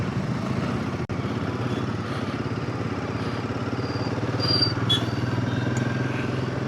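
A motorcycle rides through city traffic in the early morning, its engine giving a steady, moderately loud drone with wind rumble and one brief sharp knock near the start.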